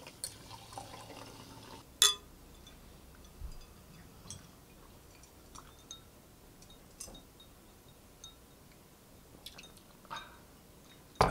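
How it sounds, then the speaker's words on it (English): Sparkling water poured into a cocktail glass over a dried hibiscus blossom, heard as a faint, quiet fizz and trickle with a few light clinks and ticks, with no talking. "And when you're ready to serve, a little bit of sparkling water."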